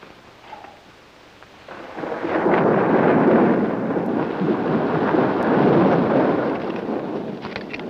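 Thunder from an approaching storm in a 1958 horror film starts faint, then swells into a long, loud rolling rumble that grows and lingers for several seconds with a rain-like hiss beneath, no speech.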